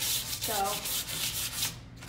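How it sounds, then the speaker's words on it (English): Hand sanding of painted furniture with 220 grit sandpaper, rapid rhythmic back-and-forth scraping strokes, close and loud, with a brief spoken word at the start. "this is a 220 grit sandpaper that I'm using. And I'm just trying to take some of the edges of it off and smooth the paint out."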